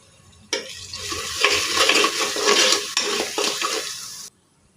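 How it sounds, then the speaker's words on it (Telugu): Spoon stirring turmeric, garam masala, coriander and cumin powders into a curry in a pan over the heat, a steady scraping stir with light frying sizzle throughout, close and fairly loud, with no talk. "తర్వాత పసుపు గరం మసాలా పొడి ధనియాలు జీలకర్ర పొడి ఇవన్నీ వేసుకొని బాగా కలుపుకోవాలి"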